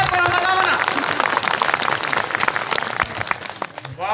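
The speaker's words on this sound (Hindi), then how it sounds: "ताली बजाओ एक बार जोरदार" Village crowd applauding during a speech at a martyrs' memorial gathering in Palki village: dense, continuous clapping from many hands, loud and close, mixed with voices and tapering off near the end.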